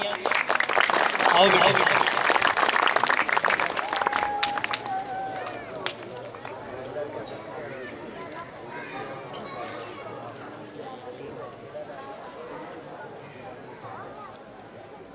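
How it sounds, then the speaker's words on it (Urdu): Students and staff at a school farewell event for a departing teacher clap loudly for a few seconds, then the applause thins and fades beneath a voice speaking over the hall. "آپ کی بھرپور تالیاں"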